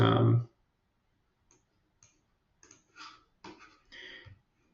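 A few light, sharp mouse clicks on a button in eClinicalWorks documentation software, preceded by a brief louder burst of sound and then spaced irregularly over the next few seconds in a quiet room.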